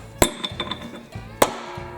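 Hammer strikes knocking the spindle shaft out of a Cub Cadet riding mower deck: two sharp, loud metallic blows about a second apart, with lighter clinks and taps between them.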